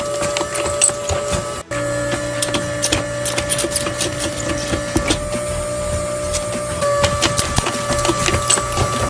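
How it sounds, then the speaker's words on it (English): A pad printing machine transfers an image onto an object through a silicone pad, giving steady mechanical whirring with repeated clicks and clacks, one brief dropout near the start. "this process is called pad printing, in which you transfer a 2D image onto a 3D object via a silicon pad"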